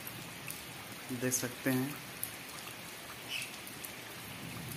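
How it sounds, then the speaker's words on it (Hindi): Steady rain pours down in a monsoon-season downpour, a dense hiss throughout, while someone speaks briefly over it. "यह है 2022 का दूसरा बारिश"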